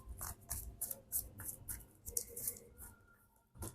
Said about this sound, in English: let me reshuffle